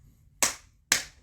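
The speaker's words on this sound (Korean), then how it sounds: "제가 박수 탁탁 치겠습니다" Two sharp hand claps ring out about half a second apart, crisp and close in an otherwise quiet room, each with a short decaying tail.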